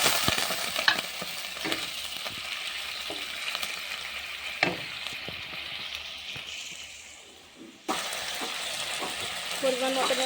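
Ginger frying in a little oil sizzles and is stirred with soft scrapes. The sizzle fades, then bursts up sharply as water hits the pan and keeps bubbling afterward.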